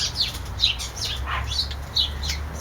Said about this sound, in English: I love little birds, but I wish they wouldn't fight.